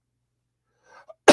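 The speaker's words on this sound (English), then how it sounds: "I get a coughing fit" A single sharp, loud cough bursts out at the very end after a second of near silence and a few faint breathy sounds, the start of a smoker's coughing fit.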